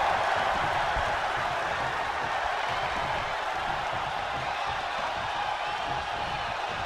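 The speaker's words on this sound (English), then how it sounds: "you hear this capacity crowd following you on that journey" A large capacity arena crowd in the wrestling video game WWE 2K22 roars with a steady, dense wash of cheering and applause that holds loud and unbroken throughout, with no voices standing out.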